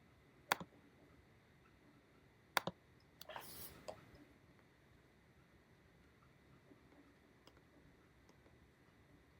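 Sharp, isolated clicks from a computer mouse, one near the start and a close pair a couple of seconds later, followed by a brief cluster of faint clicks and rustle, then quiet room tone.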